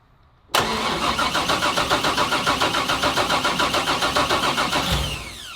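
A brand-new engine in a Nissan 240SX cranks and catches abruptly, then settles into a loud, close, steady idle with a fast even pulse, fading slightly at the end.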